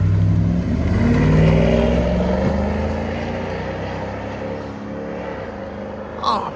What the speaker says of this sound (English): Dodge Dakota RT V8 with Flowmaster 40 duals,